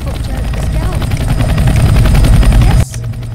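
Helicopter in the Roblox video game Escape Prison Obby, a loud close steady rotor thump that drones throughout and cuts off near the end.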